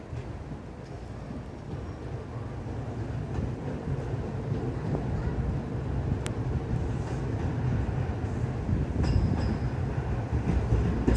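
A Meitetsu 6000 series electric train on the Gamagori Line rumbles in steadily, its low roar gradually growing louder with faint squeals and clunks of the cars rolling along the track.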